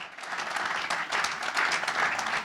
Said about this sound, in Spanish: Le pedimos un aplauso, por favor.